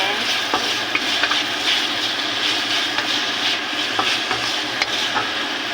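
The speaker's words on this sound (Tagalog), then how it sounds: "halu-haluin lang natin" Chicken balls with white cheese are turned in a hot pan, with a dense steady sizzle and repeated light scraping and tapping of a utensil at a regular pace, close and without talk.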